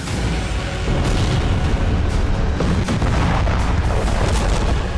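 Israeli bombardment in southern Beirut rumbles as heavy, sustained explosive booms, loud and dense throughout with overlapping low thuds and no voices.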